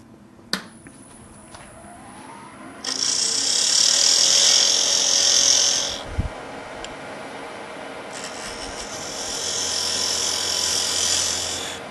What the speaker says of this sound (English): I can drill whatever hole I want.